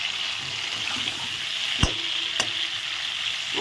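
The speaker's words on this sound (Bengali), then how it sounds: "আস্তে আস্তে পটলগুলো ভেজে নেব" Pointed gourd pieces fry in oil left over from frying potatoes, a steady close sizzle broken by two sharp clicks of a utensil touching the pan, with no talk.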